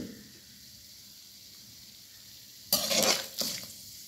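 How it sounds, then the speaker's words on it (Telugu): Cinnamon, cloves and bay leaf hit hot oil in a pan for a jackfruit biryani, a sudden loud sizzle after near silence, fading and then flaring briefly again. "4 లవంగాలు, ఒక బిర్యానీ ఆకు వేసుకుని ఒకసారి వేయించుకోవాలి."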